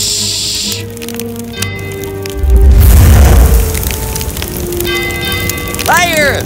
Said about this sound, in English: The castle is on fire!